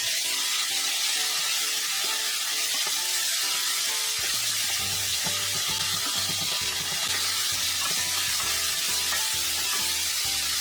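Garlic frying in a pan gives a continuous, even sizzle that runs the whole time. Low tonal hum from kitchen background sits beneath it. No talk is heard.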